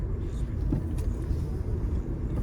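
A car engine pulls as the driver accelerates, with the pedal worked using a prosthetic leg; a steady low motor rumble runs through the moment under faint cabin noise.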